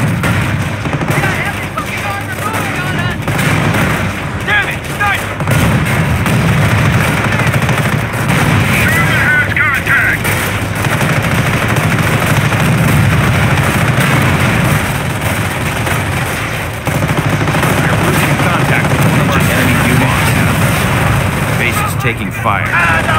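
Continuous rifle and machine-gun fire mixed with booming artillery in the PC World War II strategy game Company of Heroes (2006), a dense, loud battle din running throughout with shouted voice lines over it.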